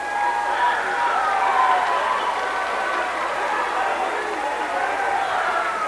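Student cheer block at a high school basketball game, Hatchets versus Wildcats, chanting as a dense crowd roar that holds steady throughout, loud and continuous with many voices blended together.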